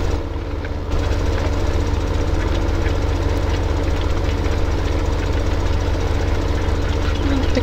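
A Massey Ferguson 7180 cane tractor engine from Farming Simulator 17, a loud, steady low diesel drone with rapid rhythmic pulsing that fills the whole stretch without pause and stays close and even throughout.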